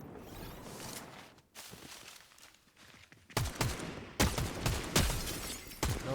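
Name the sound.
gunfire during a replay in a video game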